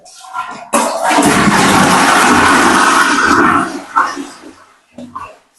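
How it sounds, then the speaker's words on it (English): Toilet flushing in a newly fitted bathroom, one loud close rush of water lasting about three seconds before it trails off into gurgles and drips. "Toilet."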